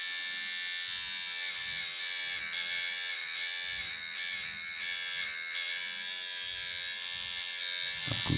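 EvoTattoo tattoo machine runs on an RCA cable with a foot pedal, giving a loud, steady electric buzz that drones continuously, with brief dips and pedal clicks near the end.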